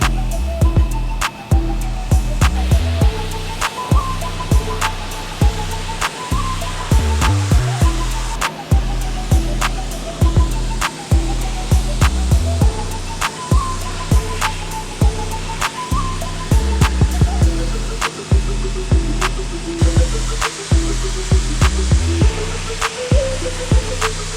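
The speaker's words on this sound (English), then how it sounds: "So I found that the easiest way to pressure wash is just simply have your wife do it for you." A pressure washer sprays a 1991 Sea-Doo with a loud, continuous hissing roar, broken by frequent short clicks and dips as the jet shifts across the hull.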